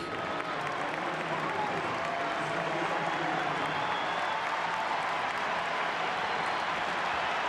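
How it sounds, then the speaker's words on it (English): Steady, loud applause and clapping from a large stadium crowd at a Copa America 2024 football match between Argentina and Chile, filling the whole stretch with dense, continuous noise as substitutes come on. "That applause is to welcome Lautaro Martinez and Angel Di Maria."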